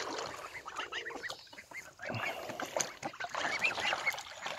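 Geese and ducks splash and honk around a backyard baby pool, a busy flock of overlapping close honks, quacks and water sloshing in irregular bursts.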